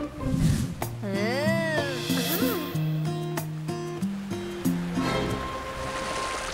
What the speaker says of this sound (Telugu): నీళ్ళు వస్తున్నాయి,